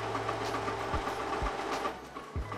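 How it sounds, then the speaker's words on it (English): A Canon PIXMA G-series inkjet printer powering up for the first time whirs and hums mechanically, with several short thumping clicks spaced through the clip, fairly quiet and close. "The printer makes some noise and after a minute I select the display language."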